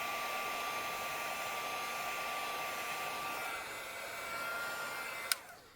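A heat gun blows over embossing powder on paper, a steady whirring hum with a faint high whine that runs on, then a sharp click as it switches off near the end.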